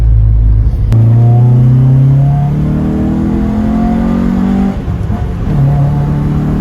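A Nissan 1400 accelerating hard, its engine revving up in long rising pulls with a gear change, loud and close from inside the car, no talking.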